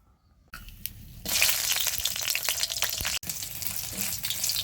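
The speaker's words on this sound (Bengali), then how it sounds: "হালকা তেলে ভাজা দিয়ে নিব" Dried chilies, chapa shutki, onion and garlic fry in a little oil, a steady loud crackling sizzle that rises after a quiet start and continues close up with no talk.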